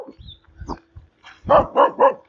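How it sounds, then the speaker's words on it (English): A small dog barks near a road: quiet low grumbles and yips first, then three loud sharp barks in quick succession, close by, with no talking over them. "here's a little welcoming dog that we're gonna go by"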